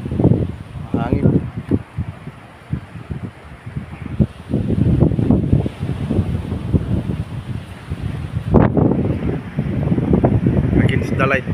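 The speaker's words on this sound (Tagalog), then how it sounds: "Hangin." Gusty wind after Typhoon Uwan buffeting the microphone at a resort with low rumbling bursts, heard beneath intermittent talking.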